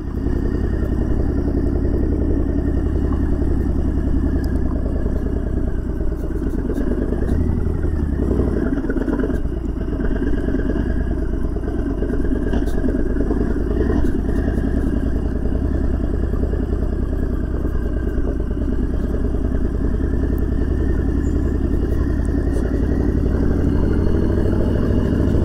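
A Harley-Davidson motorcycle engine drones steadily on the Serra do Corvo Branco mountain road, with a constant low rumble and wind rush heard up close for the whole ride.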